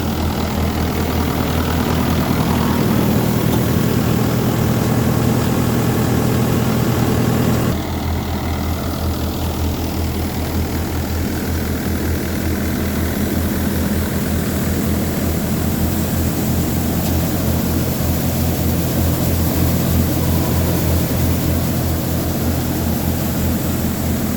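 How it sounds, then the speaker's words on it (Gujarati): A Mayur double-tank thresher runs off a Mahindra 585 4x4 tractor, giving a loud, steady mechanical drone with no talk; the tone shifts slightly about a third of the way through, then holds even to the end. "મયુર થ્રેશર ડબલ ટેન્કનું પરફોર્મન્સ જોઈએ"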